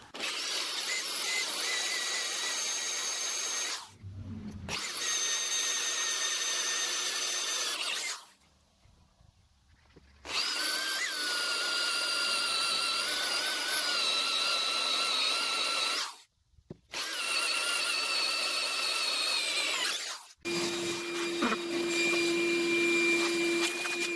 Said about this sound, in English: we're going to be drilling for a while